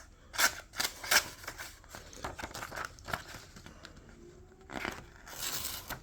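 A Shirogorov Quantum Ursus folding knife slices through material in a series of crisp snipping, rasping cuts, several quick strokes followed by a longer sliding pass, close and fairly quiet.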